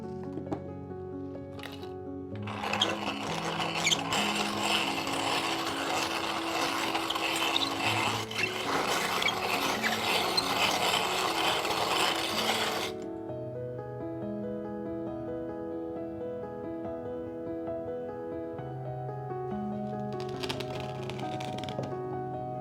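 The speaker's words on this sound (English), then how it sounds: "then I run it through my corn grinder, grind it into as fine a powder as possible" Hematite rock being ground in a hand-cranked corn grinder: a dense, gritty rasping that runs for about ten seconds, then gives way to quieter background sound, with a brief return of the grinding near the end.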